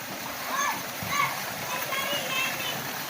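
Water splashes from a spout into a pool inside the Ergendang cave in Deli Serdang, North Sumatra, a steady close splatter and gurgle with children's voices and visitors playing in the water around it.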